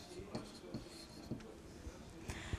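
A marker writing a student's name on a classroom lesson board during a fifth-grade maths lesson, producing soft, quick squeaky strokes in short bursts, faint and close.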